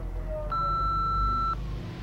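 A single steady electronic tone from a telephone during a call sounds for about a second, clear and fairly loud over a low background hum.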